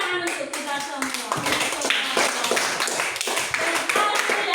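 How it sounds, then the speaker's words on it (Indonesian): A classroom of students in Indonesia claps together in a loud, dense burst of applause that continues throughout, with some voices mixed in. "Tepuk tangan untuk kita semua."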